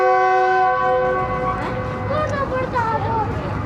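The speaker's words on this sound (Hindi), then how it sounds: "दोस्तों थोड़ा सा स्टॉप करने के बाद अब ट्रेन रवाना हो रही है" Jaffar Express train of Pakistan Railways pulling away after a stop, opening with a strong sustained horn blast that gives way to rumbling carriages and shifting tonal squeals, under a speaking voice.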